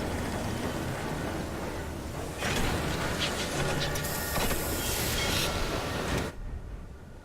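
In the video game Sunless Skies, a train rumbles into a station with grinding iron wheels on iron rails and a bright screeching squeal, then the noise cuts off abruptly.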